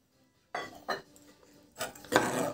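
White sauce pasta with milk being stirred in a pan over medium heat: a few scraping, clattering bursts of a utensil against the pan, separated by short quiet gaps.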